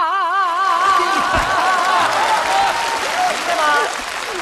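An audience claps steadily and loudly for a stage comedy sketch performance. The sustained applause swells after a brief voice at the start and continues throughout.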